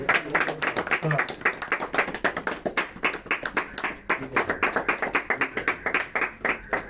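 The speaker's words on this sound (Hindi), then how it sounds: "भाई तालियां बजाते रहो, ये ऐसे मजा नहीं आएगा।" A crowd of local dignitaries claps steadily in quick rhythmic unison at a welcome gathering, the beats close and fairly loud, with people talking over it.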